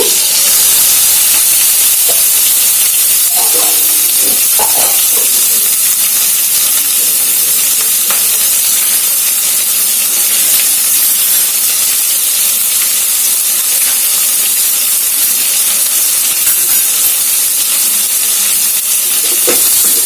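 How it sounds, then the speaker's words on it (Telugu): Onions with cumin seeds and two green chillies fry in a pan, giving a steady, loud hiss and sizzle throughout with a few faint stirring scrapes and no talk. "చూడండి ఫ్రెండ్స్, ఉల్లిపాయలు బాగా వేగిపోయింది కదా"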